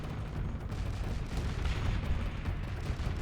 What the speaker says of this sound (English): That explosion from the cannon. So pretty.